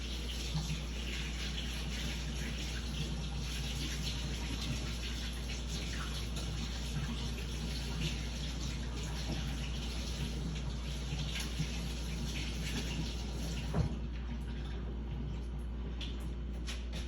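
Tap water runs steadily over raw beef being rinsed during high-protein meal prep, a continuous close hiss with no speech.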